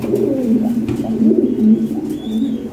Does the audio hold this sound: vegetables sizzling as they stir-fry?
no